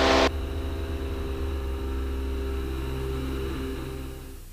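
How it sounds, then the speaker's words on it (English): Twin-prop aircraft engines at takeoff power on departure from KBFI on a cold day, a steady loud droning roar with strong low harmonics, holding constant and fading slightly at the end. "takeoff power set, fuel flows at the red line, airspeed's alive. Up we go."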